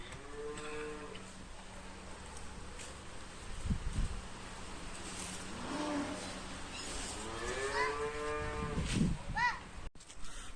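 A Punjab cow lowing at a farm, several long moos spread across the stretch, fairly close, with quiet background rustle and a sharp knock near the end.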